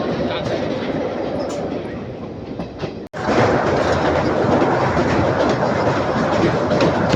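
A special train on the Jammu to Katra rail line runs steadily with loud, continuous rumble and clickety-clack of wheels on track, broken by one brief dropout around the middle, with no talk.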